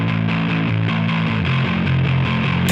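A bass guitar played through a distortion plugin with heavy low end gives out a fuzzy, compressed, growling line of repeated notes, loud and dry, with no talk.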